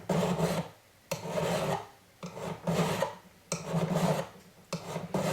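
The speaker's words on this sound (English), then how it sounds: "you can start with a coarser file like I'm doing now, and go to a finer one" A coarse file rasps across the side of a hand-made sterling silver hexagonal box in about five long, even back-and-forth strokes with brief pauses between, close and loud with no talking.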